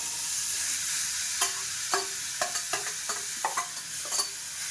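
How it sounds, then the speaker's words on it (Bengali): Leftover Malabar spinach curry reheating in a pan makes a soft, steady sizzle while a utensil knocks against the pan in a series of about ten light taps, close by with no talk. "একটু পুঁই শাকের তরকারি, এটাই এখন এই যে গরম করব"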